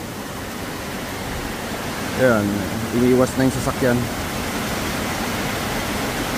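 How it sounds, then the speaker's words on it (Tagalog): Heavy rain pours down in Metro Manila as a steady, loud hiss of broadband noise across a flooding street, with a voice speaking briefly over it in the middle. "bumabakbak na naman po ang napakalakas na ulan sa buong Metro Manila."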